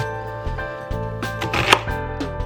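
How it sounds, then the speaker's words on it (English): A knife chopping an onion on a board, a series of irregular close taps and thuds with a steady hum in the background. "I for sure know how to cut an onion"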